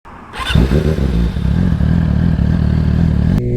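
A Yamaha R6 motorcycle engine cranks and fires up, then settles into a loud, steady, rumbling idle close by, with a brief clatter near the end.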